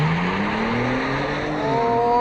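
A 2021 Genesis G70 3.3T launches hard from a standstill, its engine note climbing steadily in pitch with a gear change near the end, loud and close throughout with no talking.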